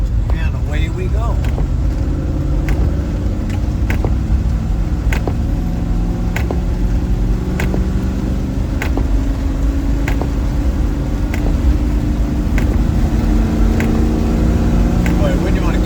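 A Land Rover Defender 110 drives a rutted dirt road during the first big rains in California. A steady engine drone and road rumble run throughout, with regular light ticks and knocks from the vehicle.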